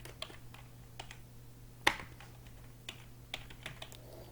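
Fingers tap out a formula on a computer keyboard in an Excel spreadsheet, light scattered keystrokes with one sharper clack, alone over a faint steady hum.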